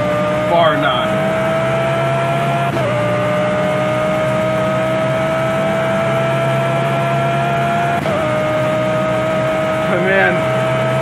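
A BMW M4 GT3 race car engine in the Project CARS racing game holds a steady high drone with sustained harmonic tones, running loud and continuous throughout with brief shifts in pitch and talk over it.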